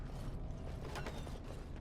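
A door opens in the Dragon Age Origins video game, a brief low mechanical creak and rattling clatter, fairly quiet and heard alone.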